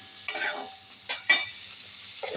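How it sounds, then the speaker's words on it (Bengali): Potatoes with turmeric being sautéed over low flame in a pan, with a few short bursts of stirring and scraping over a soft, steady sizzle. "3-4 মিনিট কষিয়ে নেবো আলুটাকে।"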